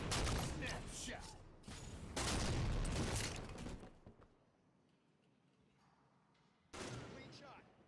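Gunfire and explosive booms in Halo 5 ranked sniper play, loud dense bursts for about four seconds, a quieter stretch, then another heavy burst, mixed with game announcer voice.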